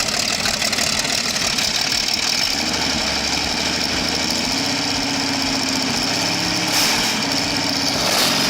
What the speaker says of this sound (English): This is the engine that powered the legendary Tiger. You knew it was coming by its powerful roar